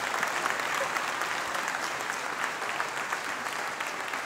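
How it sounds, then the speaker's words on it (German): Sustained applause from a lecture audience at a university event, steady dense clapping throughout at even loudness with no talking over it. "Einen großen Applaus"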